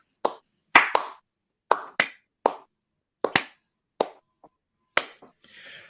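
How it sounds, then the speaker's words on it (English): Slow clap by one person, about a dozen sharp, separate claps at a loose, uneven rhythm, close and dry with silence between them, and a faint rustle at the very end. "Let's do a slow clap."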